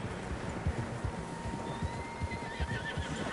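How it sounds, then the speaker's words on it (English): Several horses whinny and neigh in Red Dead Redemption 2, their calls rising over a quick run of hoof clops on soft ground, fairly close and moderately loud, with a faint outdoor ambience behind and no talking. "Horses, quite a few of them."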